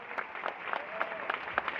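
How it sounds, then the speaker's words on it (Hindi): Audience clapping at an annual company function where a municipal council chair is chief guest, moderately distant and fairly faint, with scattered claps sustained through the moment and no talk over it. "और जोरदार ताली बजाइए।"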